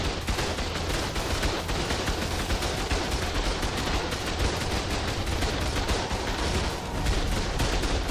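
Automated turrets in the video game ARK Lost Colony fire a dense, continuous barrage of rapid gunshots that stays loud and steady throughout with no pauses.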